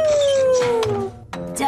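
A cartoon robot dog howls in a long, gliding voiced tone that slowly falls in pitch, followed by a couple of shorter yelping bark-like calls, loud and close, with a cartoon soundtrack underneath.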